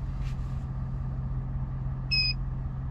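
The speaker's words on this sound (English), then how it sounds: "You hear the 2 beeps." An IGLA security system fitted to a 2024 Ford Super Duty Limited truck gives a short, high electronic beep over a steady idling engine hum inside the cab, with no talk.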